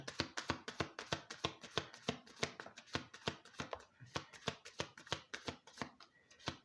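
A Kipper deck of fortune-telling cards is shuffled by hand in a quick, even run of crisp riffling snaps, close and clear, with no voices.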